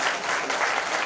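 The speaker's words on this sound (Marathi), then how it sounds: "एकदा जोरदार टाळ्या झाल्या पाहिजे" Audience at a 2025 school reunion gathering breaks into loud, dense applause, a steady wash of many hands clapping throughout with faint crowd murmur beneath.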